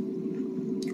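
Crunchy fried chicken fingers, coated in White Lily self-rising flour, are chewed close to the mic in one brief, steady bite-and-munch sound.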